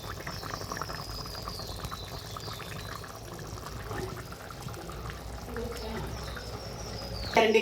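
Stingray curry gravy thickening in a pan, bubbling and simmering quietly with a steady, soft gurgling texture and a slight clink near the end.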